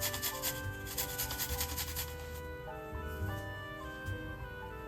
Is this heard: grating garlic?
yes